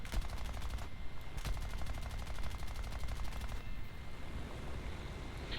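An F6F-5 Hellcat fighter firing its guns in the video game War Thunder: rapid, continuous machine-gun chatter in long bursts with a brief pause, set against a constant engine drone.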